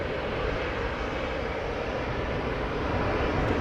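An Airbus A320 of Aer Lingus, flight 841 to Cork, 22 years old, taking off from Amsterdam Schiphol; a loud, broad, continuous jet engine roar that holds steady throughout.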